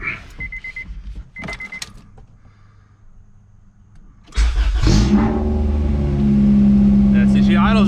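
A Honda F20B engine swapped into a wagon cranks and catches after a few quiet seconds, then settles into a loud, steady, high idle close by. A voice speaks briefly over it.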